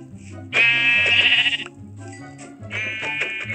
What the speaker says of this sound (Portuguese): Caraca, tem um ovelho.